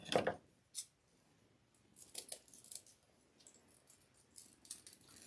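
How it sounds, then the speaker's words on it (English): Centerpiece material for a winter cow centerpiece is trimmed shorter: a few crisp snips and cutting clicks, close and fairly quiet, come in short separated bursts with faint rustling between. "So let's pull it out and let's cut it down some more."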